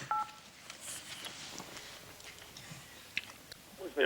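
Telephone keypad dialing tones: a couple of brief electronic beeps at the start and more near the end, heard over a noisy background.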